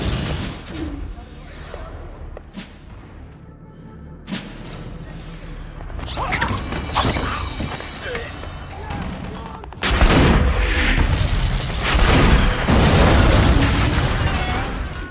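Battle in Mogadishu with heavy weapons: dense, continuous gunfire and repeated explosions, loud and close, with sharp bursts throughout and a heavier barrage in the second half.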